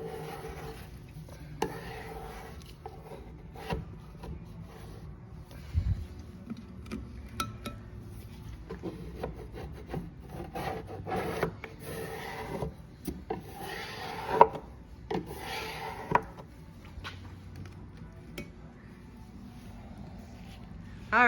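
A mahogany corner cabinet is stripped and prepped by hand, with continuous close scraping and rasping against wood, broken by occasional light knocks and clinks.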